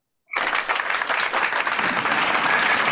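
Applause for Minnie akka at a children's club gathering breaks out after a brief silence and continues steadily as dense, close clapping from a group.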